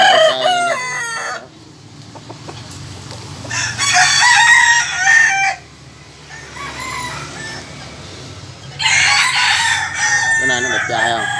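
A rooster crows loudly several times in long, ragged calls, with quieter clucking and farmyard noise in the pauses between.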